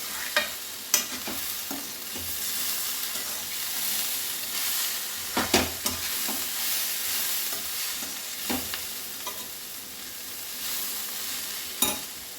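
Cabbage and moong dal curry sizzles steadily in a pan while a spoon scrapes and stirs it, leaving sharp clinks and scraping strokes at irregular intervals over a constant close frying hiss, with no voices.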